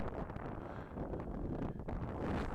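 Strong gusty wind blows outdoors during a competition, a dense rumbling roar buffeting the microphone throughout with no clear pauses.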